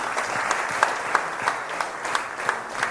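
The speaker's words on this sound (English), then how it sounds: "How about a round of applause for them?" Applause from an audience of kids and parents at a youth athletics meeting, a steady patter of many hands clapping with a few sharper claps standing out, fairly close and continuous throughout.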